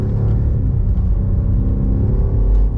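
A 2021 BMW M5 CS engine under acceleration on the Nürburgring Nordschleife, heard from inside as a loud, deep, steady rumbling drone that holds throughout.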